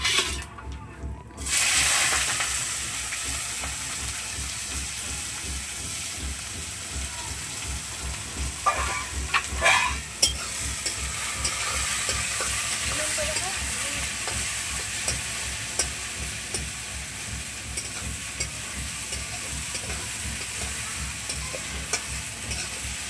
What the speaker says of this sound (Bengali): পেঁয়াজগুলোকে লাল করে ভেজে নেব